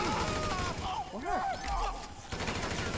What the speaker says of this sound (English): Yeah, I'm shooting up the fucking strip club